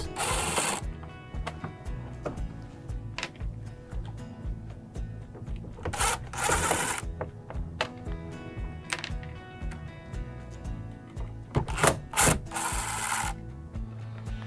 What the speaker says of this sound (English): Now we're ready to remove our inner chute screws.